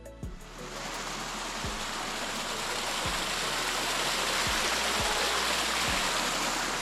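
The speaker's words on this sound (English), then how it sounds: "We then entered a beautiful aspen grove with small cascading streams flowing" Small cascading streams flow through an aspen grove in Rocky Mountain National Park in Colorado, making a steady, close broadband rush of running water that continues without a break, with a few low knocks and no voices.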